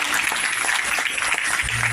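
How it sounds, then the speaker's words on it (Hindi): Audience applause for a performance by small school children at an ashram foundation-day event in Delhi, a steady dense wash of many clapping hands throughout, with a brief low hum near the end. "एक बार जोरदार तालियां इन नन्हे मुन्ने बच्चों के लिए।"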